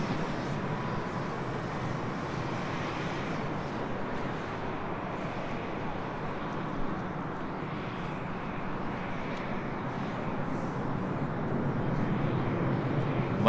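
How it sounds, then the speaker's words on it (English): A WestJet Boeing 737-800 airliner on its landing run after a flight from Calgary, heard as a steady, loud broadband jet roar with wind buffeting that holds throughout and swells slightly toward the end. "Landing there, that was WestJet Flight 1514 coming up from Calgary in the 737-800"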